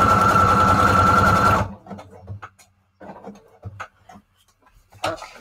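A sewing machine runs a wide zigzag stitch, its motor buzzing fast and loud for about a second and a half before stopping, followed by quiet handling sounds and faint breaths.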